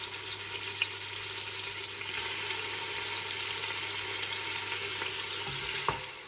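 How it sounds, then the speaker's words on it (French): Lamb neck pieces brown in olive oil in a pressure cooker, giving a steady, even sizzle throughout with a couple of faint knocks near the end; nobody speaks. "je fais bien revenir mes morceaux donc, de collier d'agneau dans l'huile d'olive"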